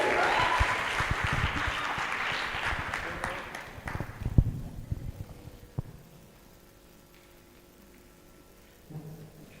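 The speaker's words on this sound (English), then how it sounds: "let's welcome the dancers with a big applause" An audience at a youth adaptation forum applauds dancers, loud dense clapping at first that thins and fades to scattered claps and quiet.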